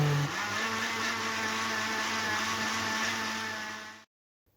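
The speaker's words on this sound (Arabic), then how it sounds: "وغادي نطحن كل شيء" A blender blending juice with honey whirs at a steady high pitch for about four seconds, its motor humming loudly before cutting off abruptly into silence.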